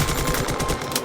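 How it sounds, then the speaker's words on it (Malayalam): Gunfire in the mobile game Free Fire MAX comes as a dense, rapid automatic burst, loud and continuous for about a second, with no voice over it. "ഇയാൾ വെടിവെച്ചത് എന്താ ചാവാത്തത്"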